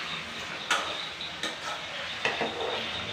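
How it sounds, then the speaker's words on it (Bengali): Potato strips cut long like French fries fry in a home kitchen with a soft, steady sizzle, broken by a few sharp clinks of a utensil against the pan. "আর ও করছে এখানে আলু ভাজা"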